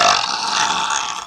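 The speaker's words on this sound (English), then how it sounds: "do the burping thing" A single long, loud, rasping burp sounds up close and alone, holding strong for about a second before tailing off.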